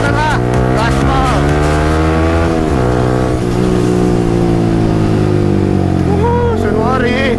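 A motorcycle engine revs hard at full throttle, loud and close, its pitch climbing and dropping continuously throughout.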